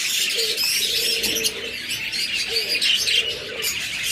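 Pet birds kept for sale, a lively stream of bright chirps and tweets with soft coo-like calls underneath, close and continuous, with no talk.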